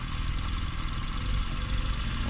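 A Suzuki GSX 1000cc motorcycle revving on a dirt road, a steady low engine rumble with slight fluctuations over a couple of seconds, moderately loud, with no voices.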